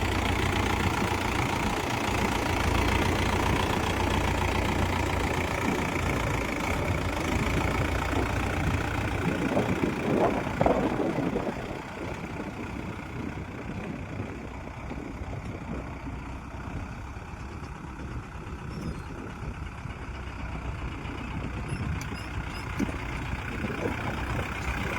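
Tractor pulling a five-furrow plough through a field, its diesel engine running steadily with a knocking mid-range drone, loud and close for the whole stretch, easing slightly partway through, with no talk.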